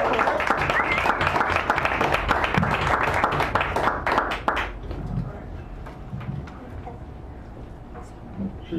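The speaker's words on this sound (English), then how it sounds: "Let's give Buford a round of applause." Audience applause at a poetry reading in Sacred Grounds Cafe, San Francisco: lively crowd clapping with sharp individual claps for about four and a half seconds, then dying away into a quiet room.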